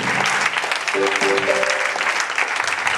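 A church congregation applauds steadily and loudly throughout, a dense wash of clapping with faint voices and a brief tonal murmur mixed in.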